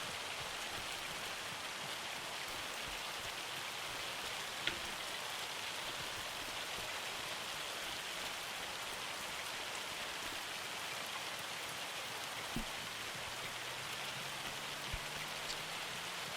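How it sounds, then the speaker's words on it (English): Hail falling on the Saxingham map in Farming Simulator 25 makes a steady, dense hiss of tiny impacts that carries on without a break, with a few faint clicks and a low hum underneath. "There's a lot of hail on Saxingham at the moment."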